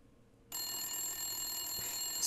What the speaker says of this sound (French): Ce bruit des téléphones dans des années 50, j'adore, ça fait vraiment classe